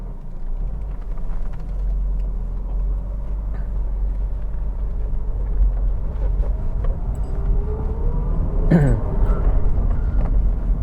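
A Toyota MR2 driving on a road on a Sunday afternoon, a steady low engine and road rumble from inside the car, with a brief swelling whoosh near the end.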